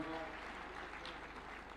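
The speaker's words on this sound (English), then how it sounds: "Another round of applause for Senator Kajwang," Audience applause at a devolution conference in Homa Bay County, a steady wash of clapping from a large crowd, fairly distant and even throughout.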